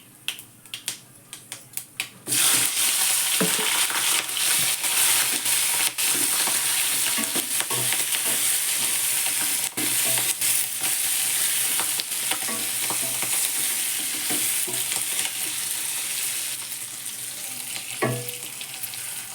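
Cumin seeds sizzling in hot oil for a bell pepper dish, starting quietly and then jumping into a loud, steady, crackling sizzle that runs on with scattered pops and a few clinks, no talking.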